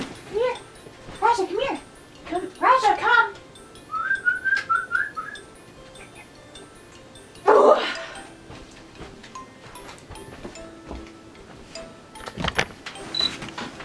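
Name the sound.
standard poodle dog barking and whimpering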